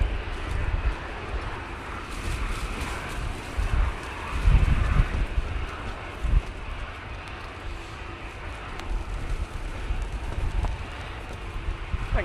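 An Etihad airliner taxiing across a windy airfield at Manchester Airport, a low distant jet rumble buried under heavy gusting wind buffeting the microphone.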